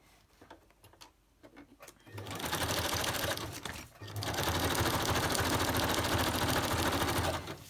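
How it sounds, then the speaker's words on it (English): A sewing machine stitches across a napkin collage craft page, running in two long, steady bursts of rapid mechanical whirring after a few soft handling clicks, close and loud. "I'm going to stitch across there"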